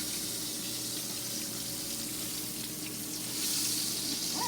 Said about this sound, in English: Our pork chops are cooking.